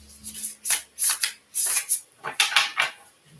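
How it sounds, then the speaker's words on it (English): A deck of cards is shuffled in quick riffling bursts, several crisp flutters in a row, close and fairly loud. "One more shuffle."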